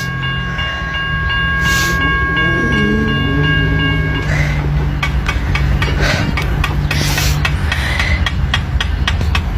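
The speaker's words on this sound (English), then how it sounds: "Hey guys, train." Union Pacific freight train passing close by, its horn sounding in steady tones at first, then a loud continuous rumble with rhythmic clacking of wheels over rail joints.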